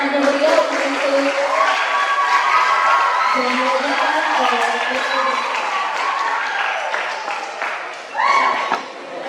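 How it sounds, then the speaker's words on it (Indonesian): Audience applause at a scout contingent send-off ceremony for a national jamboree: steady crowd clapping mixed with cheering, while voices carry on over it, with a louder burst near the end. "Tamu undangan dan adik-adik peserta boleh beri tepuk tangan yang meriah"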